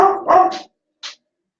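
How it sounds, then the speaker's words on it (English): Small dogs bark sharply, a couple of quick yaps followed by a brief yip, then silence. "I can hear the yappy dogs out there, and Shayla's barking at them now."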